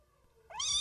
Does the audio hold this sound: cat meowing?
yes